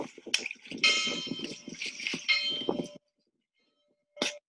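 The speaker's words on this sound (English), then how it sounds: "Can you guys hear that clanging back and forth? So that wasn't just a mark. It was also a bell buoy." Bell buoy at a navigation mark on the water at night, ringing in repeated metallic clangs with sustained ringing tones over a busy background, then quiet before one last clang.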